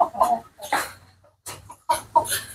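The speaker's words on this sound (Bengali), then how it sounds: "এই যে মুরগিগুলো এগুলো আরো অনেক বড় হবে" Farm chickens cluck in several short bursts with brief pauses between them, close and moderately loud, with no talking.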